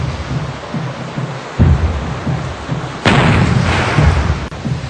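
Naval artillery fire from the battle of Angamos booms twice in heavy, blasting reports over a windy, rumbling sea-like wash, the second shot louder and fuller.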